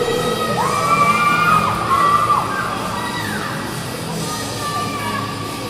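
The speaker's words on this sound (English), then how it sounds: "We got our other 12 team here, hooting and hollering, cheering on their pals." A youth hockey team of twelve-year-olds cheers and hollers from the stands at a game against Duluth, with children's high shouts and whoops rising over steady crowd noise before settling into a softer murmur.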